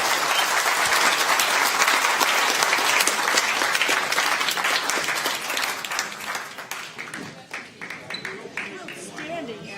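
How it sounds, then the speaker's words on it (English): A large audience applauds loudly and steadily, the clapping thinning and tapering off toward the end as a few claps linger. "you can clap again if you want."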